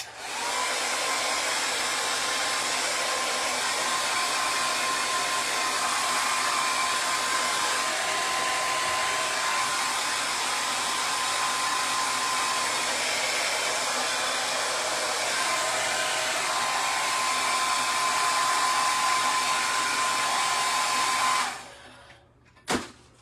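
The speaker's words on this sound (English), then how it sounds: "I'm going to take my hair dryer and I'm going to turn it on hot" A hair dryer set on hot blows continuously at a steady whoosh with a faint whine, running close by for about twenty seconds before switching off.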